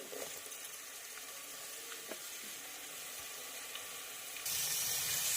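Onions and green chillies sautéing in a pan with ginger-garlic paste and whole spices for masale bhat give off a steady, close sizzle throughout, turning louder and brighter in the last second.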